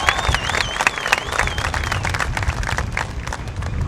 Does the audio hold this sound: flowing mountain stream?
no